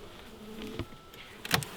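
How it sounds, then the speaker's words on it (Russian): Honeybees buzz in an opened hive during a beekeeper's early-September colony inspection, a steady close droning hum with a couple of brief handling knocks and scrapes against the frames. "Тут вроде пчел побольше."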